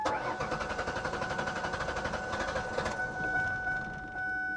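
A Pontiac G5 GT running on bad gas cranks with a rapid pulsing chug, catches, and runs briefly with a rising whine before settling into a rough, uneven idle, heard up close with no speech.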